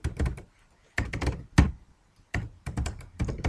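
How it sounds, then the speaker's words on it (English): Typing a name on a computer keyboard in a quiet room: short clustered bursts of close, crisp key taps separated by brief pauses. "Now I'll type my name,"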